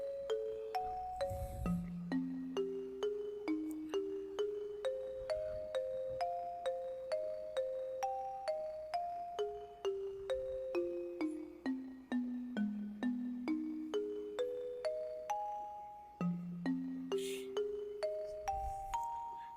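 A phone rings for an incoming call in the Higurashi video game, a bright electronic ringtone melody of stepped chime notes that loops again and again at a steady volume for about twenty seconds, with a few soft low thuds underneath.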